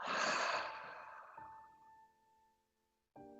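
A single long, breathy exhale released after a held breath, loud at first and fading over a couple of seconds, followed by a soft chime tone ringing out at the end.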